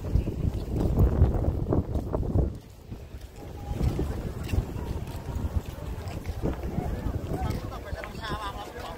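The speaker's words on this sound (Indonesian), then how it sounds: "anginnya gede." Strong wind buffets the microphone on Mount Uhud near Medina, a loud, gusty low roar that rises and falls, with brief talk from people nearby.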